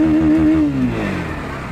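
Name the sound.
Bajaj Pulsar NS160 motorcycle engine revving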